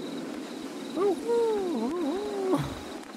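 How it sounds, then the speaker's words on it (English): An owl-like creature in the video game Construction 1999 gives a wavering, warbling hoot of a few seconds, clear and fairly close against a low ambient backdrop. "What should be like a shitty owl or something?"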